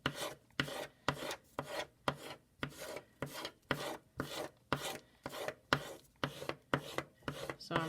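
A folded paper square is rubbed hard for a line mandala, a steady, close rasping stroke repeated about twice a second.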